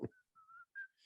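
Someone whistles a short tune in three bright sustained notes with brief gaps, close and clear, after a quick thump at the start.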